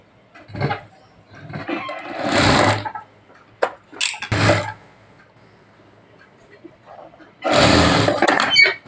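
A sewing machine stitching a blouse neckline runs in short, loud, close bursts of whirring motor noise separated by quiet pauses, with a longer run near the end.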